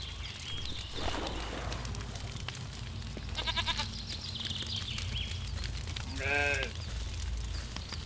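A sheep bleats briefly in the video game Force of Nature: a short, faint, wavering call near the end, over quiet ambient game sounds and soft footstep-like clatter.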